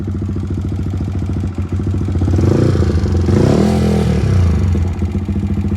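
A modified motorcycle exhaust on an Echo bike rumbles loudly up close, with a choppy idle that swells into a harder rev in the middle before settling back to a throbbing, uneven putter.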